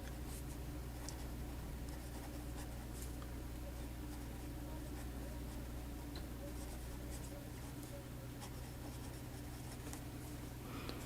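Fountain pen with a fine steel nib and blue cartridge ink writing on paper, a faint continuous scratchy scribbling close by over a steady background hum.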